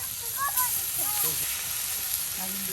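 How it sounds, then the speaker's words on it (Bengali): Pangas fish fries in a pan with mustard paste at a traditional Mymensingh cooking setup, a steady close sizzle running beneath brief bits of voices. "মাছ ভাজা প্রায় শেষ"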